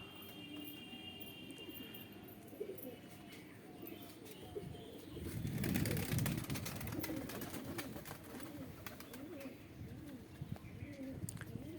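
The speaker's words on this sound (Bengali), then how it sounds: "এই যে হচ্ছে আমার পায়রা" Domestic pigeons in a home loft coo softly and repeatedly with low, throaty calls, a louder rumble of activity rising midway, mixed with scattered chirps and rustling, fairly faint overall.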